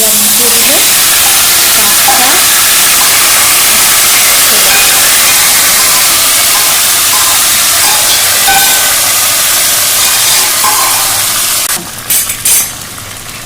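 Jute leaf curry in a light, thin broth simmers and sizzles steadily in a pan, a continuous close bubbling hiss that thins out near the end with a few clinks.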